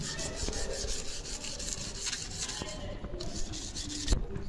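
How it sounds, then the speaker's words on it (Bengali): A zinc plate being rubbed sideways with abrasive to raise a grain for leather embossing work, a steady close scraping rasp repeating in even strokes throughout. "আমরা সাইড ওয়াইজ ঘষছি প্রথমে,"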